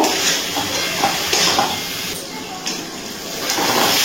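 Cabbage tossed with fried spices in a pan over medium heat gives a steady sizzling hiss, with a few soft scrapes and clatters from stirring coming through close by.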